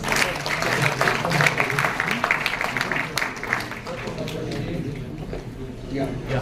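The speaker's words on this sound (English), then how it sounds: "Please give them a big applause." Audience applause for award winners at a ministerial inauguration event, dense steady clapping throughout under a strong murmur of voices and talk, fading slightly toward the end.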